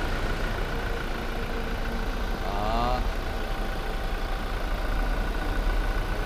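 Diesel 2.4G engine of a 2019 Toyota Fortuner with manual gearbox idling steadily, a constant close rumble throughout with a brief voice over it.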